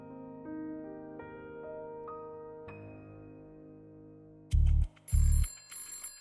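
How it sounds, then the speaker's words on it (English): A telephone rings in a dramatised 1974 Belgravia scene, bell tones sounding under quiet music before a few loud, distinct ring bursts near the end. "John races to answer the ringing telephone."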